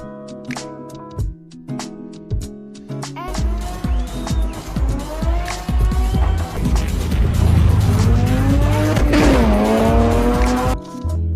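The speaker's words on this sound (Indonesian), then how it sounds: "Selama Race Wars, Jesse balap melawan Honda S2000 milik Tran dengan Volkswagen Jetta milik ayahnya dan kalah." Race cars, a Honda S2000 and a Volkswagen Jetta, roar at a car-enthusiast race meet on a closed track, their engines rising sharply with loud, repeated tire squeals and skidding in a tense movie scene.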